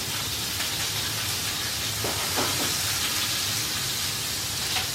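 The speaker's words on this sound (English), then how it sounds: "they're sauteing really, really quickly because I think it's because I have my pan really hot" Meatballs sautéing in a very hot pan, a steady, close sizzling hiss that holds evenly throughout with faint crackles and pops.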